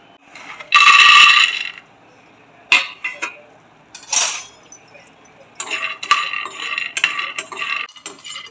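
Peanuts are dry-roasted in a pan for a capsicum vegetable dish, rattling and clinking in short, bright bursts as they are stirred and tossed, with quieter pauses between the scrapes and no speech.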